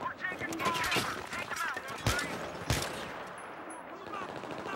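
Gunfire in the Battlefield 3 video game: rapid bursts of automatic fire crackle amid sharp single shots and a couple of heavy impacts, fairly faint and layered in a busy battle mix.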